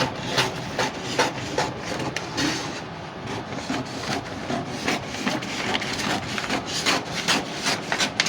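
Scissors cut through fabric for an off-shoulder cowl sleeve, a steady series of close, crisp snipping and rasping strokes repeating rhythmically with no talking.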